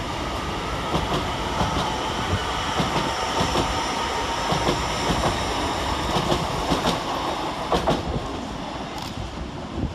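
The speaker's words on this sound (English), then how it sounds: "we see 801-221 depart, working the slightly delayed 13:05 LNER service from London King's Cross to York" LNER Class 801 train 801-221 pulls out of Doncaster railway station, a steady broadband rumble with repeated clickety-clack of wheels over rail joints throughout, close and loud, with no voices.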